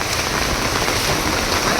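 Heavy monsoon rain pours down steadily in Surat, a dense, even hiss of drops striking surfaces close by, unbroken and fairly loud with no voices.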